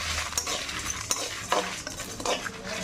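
Chana dal, coriander seeds, pepper, cumin, long pepper and a lump of asafoetida dry-roast in a pan while a spoon stirs them, giving soft scraping and rattling with a few sharper scrapes over a low, quiet bed.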